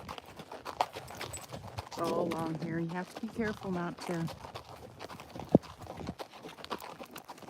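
Horses walk along an old ranch trail lined with barbed wire, hooves clip-clopping in an uneven steady rhythm close by, while a person talks over them for much of the time.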